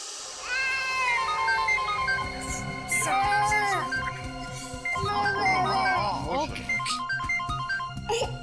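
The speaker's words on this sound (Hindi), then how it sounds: "एसपी साहब का फोन।" A bright electronic phone ringtone in a Hindi TV crime drama plays in repeating tonal phrases, loud and close, cycling several times with short pauses between bursts.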